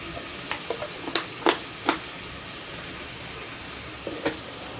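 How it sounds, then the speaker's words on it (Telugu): Ginger garlic paste fries in a pan for pulao, a faint steady sizzle broken by a few crisp scraping stirs, close by with no talk. "ఇది కూడా కొంచెం పచ్చివాసన పోయేలాగా వేయించేసుకోవాలి"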